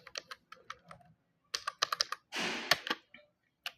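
Rapid clicks of computer keyboard keys as an IP address is entered during a static routing network setup, coming in irregular bursts with short pauses between them, close and clear with no talking.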